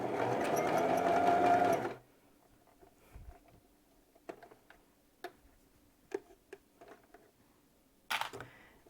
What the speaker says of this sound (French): je vais coudre vraiment jusqu'au point